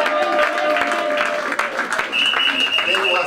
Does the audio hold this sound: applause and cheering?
yes